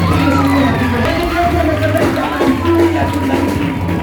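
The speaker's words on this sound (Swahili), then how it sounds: "Jamani, tupige makofi mazuri" A church congregation cheers and shouts loudly in a dense crowd roar, with voices rising and whooping throughout.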